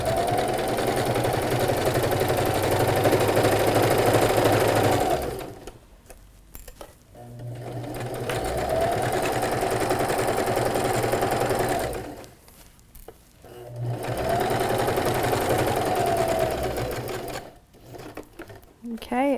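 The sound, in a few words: sewing machine stitching down the side of a bag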